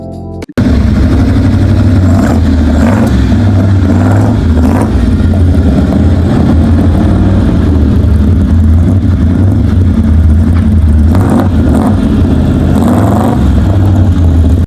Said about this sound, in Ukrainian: тепер послухайте, як звучить двигун Монреаль.